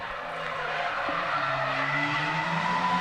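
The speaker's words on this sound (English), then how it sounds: "sounds like Brian might be leaving it in third, no longer doing the downshift there" A drift car at a street league event, engine held in third gear without downshifting, gives a sustained high engine drone mixed with tire squeal and skidding, steady and fairly loud without speech.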